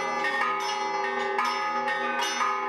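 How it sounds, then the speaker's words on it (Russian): Church bells peal continuously, calling to a Sunday service, several overlapping strikes ringing out in a bright, resonant cascade with no voices. "Колокольные переливы уже приглашают."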